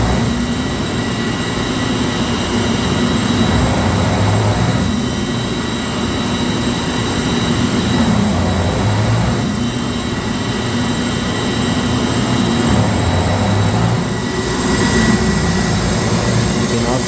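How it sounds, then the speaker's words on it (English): Centrifugal chiller in a plant room surging: a loud, steady mechanical roar with a droning hum and a faint periodic rise and fall every few seconds, continuous throughout. "The chiller's surging, but you can see it right here on the RLA."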